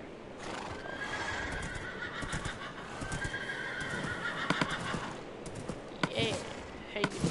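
A horse in the video game Minecraft neighs in a long, whinnying call over a steady hiss, followed by a few sharp clicks and taps.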